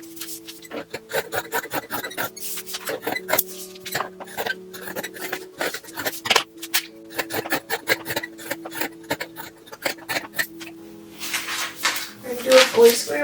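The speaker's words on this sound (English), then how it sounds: "let's cut some more bibs." Scissors cut fabric bibs with close, crisp rasping snips in irregular bursts over a faint steady hum.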